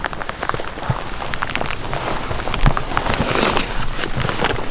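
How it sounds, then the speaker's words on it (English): Light drizzle falling outdoors while hunting deer on a western trip, a steady dense patter of fine drops on surfaces near the microphone, continuous and even throughout with no voices. "I feel like it's gonna be raining like this for a little bit longer. It's just like a drizzle"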